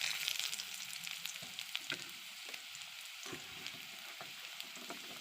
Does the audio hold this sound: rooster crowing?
no